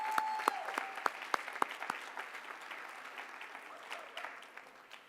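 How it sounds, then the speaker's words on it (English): Audience applause for an award winner at a 2014 business school awards and diploma ceremony, with sharp individual claps at first, then steady clapping that slowly fades over about five seconds. "Please join me in a round of applause for Don Addison II."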